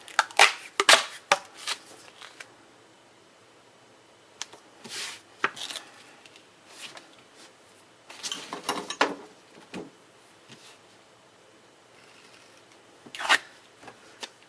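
Blue duct tape being cut and pulled into an eight-inch strip, heard as separate close bursts of scraping and ripping with quiet gaps between them.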